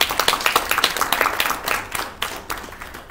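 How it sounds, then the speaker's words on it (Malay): Audience at the launch ceremony of the Selangor Intelligent Strata Property System claps together, loud dense applause that gradually thins and fades toward the end, with no one speaking. "Ayo kita berikan tepukan yang paling gemuruh kepada diri anda semua."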